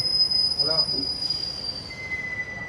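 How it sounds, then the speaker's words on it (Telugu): A passenger train moving out of a platform, its wheels squealing in long, steady high-pitched tones over a continuous rumble, close and fairly loud with no speech. "ట్రైన్ ఇప్పుడే మూవ్ అయింది బో మంచి ఫాస్ట్గానే కొట్టేస్తున్నాడు"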